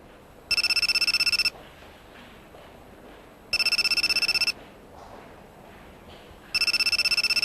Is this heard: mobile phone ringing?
yes